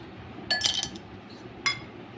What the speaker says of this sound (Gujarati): તેના માટે આપણે સૌપ્રથમ બરફના ટુકડા એડ કરીશું